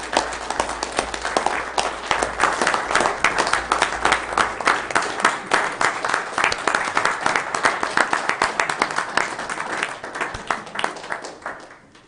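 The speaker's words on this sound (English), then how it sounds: "wouldn't mind joining me in a round of applause, everybody," A live audience at a county commission meeting gives a round of applause for a crew. Dense, even clapping runs throughout and thins out at the end, with no voices on top.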